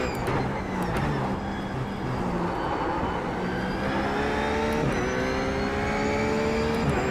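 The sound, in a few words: RUF GT3 Cup race car engine in iRacing video game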